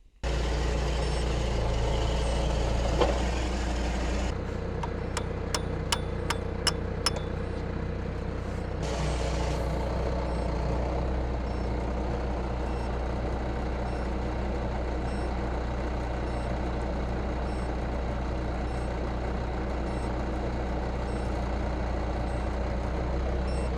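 A Bobcat loader sounds a short burst of evenly spaced reversing beeps over a steady engine idle, with a faint air-brake-like hiss after them, and the engine then keeps rumbling alone.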